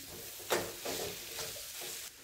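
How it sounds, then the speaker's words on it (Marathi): Gram flour and radish leaves stirred in a pan over a low flame, a few soft scraping strokes under a faint sizzle, close and quiet. "असं परतत राहायचं, मिक्स करत राहायचं."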